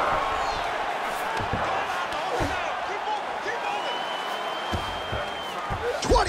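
A UFC 5 video game arena crowd cheers and roars steadily under fight sounds, with occasional thumps and a rising whistle-like tone near the end.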